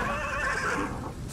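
A horse whinnies in a medieval-setting video game, a loud, close neigh with a wavering pitch that lasts about a second and then fades out, with no voices over it.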